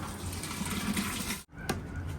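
Liquid pours steadily into a pot while a meal for about 70 people is being cooked, a continuous rushing flow with one brief break partway through.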